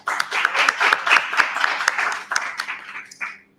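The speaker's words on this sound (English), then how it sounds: "Round of applause for her" An audience at a roundtable event against racism and islamophobia claps in a brief round of applause, dense overlapping hand claps that stay fairly loud before thinning out at the end.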